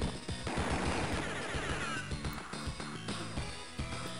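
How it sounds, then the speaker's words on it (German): Battle explosions and gunfire from the Advance Wars 2 video game, a dense run of crashing blasts and rapid popping shots in quick succession with no talk over them. "Auch schön mit Gewalt und Explosionen."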